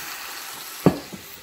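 Dried fish (tuyo) dropped into a hot pan, one sharp sizzling burst near the end followed by a smaller second splash, over faint background hiss.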